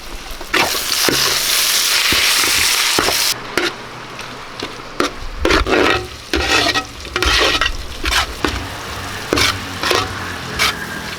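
Green chillies and chopped tomatoes sauté for a Kerala fish head curry, a loud, bright sizzle broken by repeated spatula scrapes and stirring strokes in the pan, close and vigorous.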